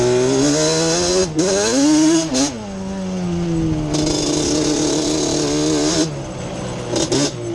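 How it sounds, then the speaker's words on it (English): A cub motor engine revs hard with the air screw set slightly rich, a loud buzzing drone that climbs and dips in pitch through several throttle blips and surges. "I take my cub motor and get on it a little bit and see how it does up here"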